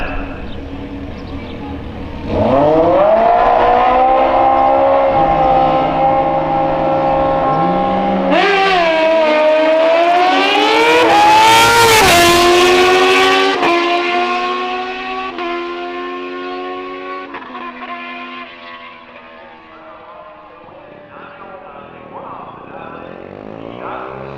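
Drag race cars launch down the strip at Grand Bend Motorplex, engines roaring loud and close as they rise in pitch through the gears before fading away, with a track announcer's voice heard over them.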